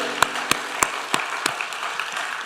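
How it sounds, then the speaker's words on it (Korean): Scattered claps from a church congregation during an evening revival service in Daejeon, about six distinct hand claps spaced roughly evenly and fading toward the end, heard fairly close with no talking. "우리 주님께 박수로 영광 드립시다."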